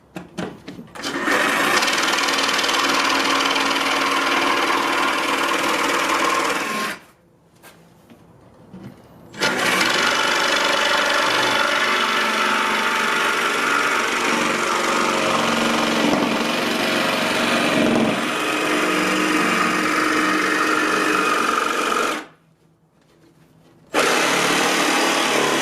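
A power saw notches a car bumper for the header while a DIY front splitter and air dam are fitted, giving a loud harsh buzzing cut that runs for several seconds, pauses briefly, then runs long again before stopping.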